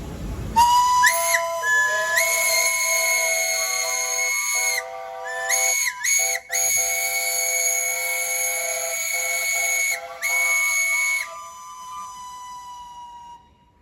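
Traction engine steam whistle at a steam rally, sounding loud and close in a series of long sustained blasts broken by short gaps, with a bright harmonic-rich chordal tone that dips in pitch at the start and end of each blast.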